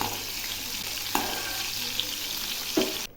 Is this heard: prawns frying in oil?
yes